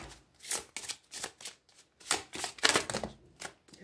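A deck of cards for a horoscope reading gets riffled and shuffled up close in a rapid series of crisp, papery bursts, about a dozen in a row with brief gaps between them.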